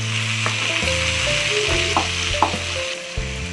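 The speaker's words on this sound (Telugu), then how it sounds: "ఇప్పుడు మనం ఇందులో ముందుగా తరిగి పెట్టుకున్న ఒక 2 టమాటాస్ని వేసుకుంటాం" Chopped tomatoes hitting a pan of fried onions for a jackfruit seed curry, a steady close sizzle with light stirring scrapes and a few soft clunks and taps.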